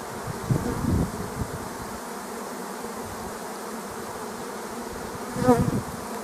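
A honeybee swarm settled near an apiary makes a steady, close, continuous buzzing hum, with a couple of louder passes as bees fly near.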